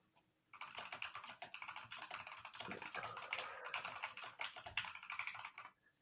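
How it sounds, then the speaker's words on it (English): Rapid, continuous typing on a computer keyboard during a live coding session, a dense run of quick clicking keystrokes that stays close and steady for about five seconds, with no voices. "She's typing so fast I can't even see the letters."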